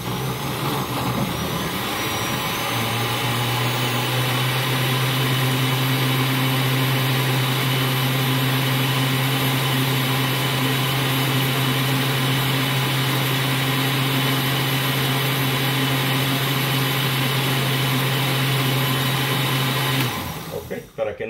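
A blender whirs loudly and continuously at high speed for about twenty seconds while blending strawberry jam filling, a steady motor drone that stops abruptly at the end.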